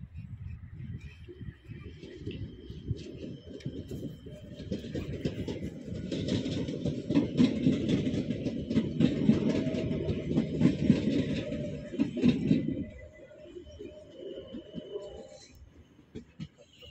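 A train passing a railway level crossing with barriers on Wróblewskiego Street in Łódź, its rumble swelling loud for several seconds, then fading away.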